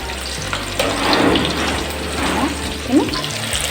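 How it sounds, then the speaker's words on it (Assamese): Steady broadband sizzling of potatoes frying in a pan, continuous and close, with occasional faint scraping and a few brief murmurs in the background. "এনেকৈ মই আটাইখিনি আলু ভাজিম।"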